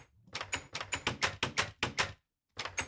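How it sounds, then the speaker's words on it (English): Crunchy trapdoor sound effect from Minecraft, a series of about ten sharp, rasping clacks in a quick rhythm, a short pause and then one more, loud and close with no talking. "I actually really liked that crunchy door noise."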